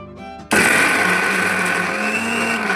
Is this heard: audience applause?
no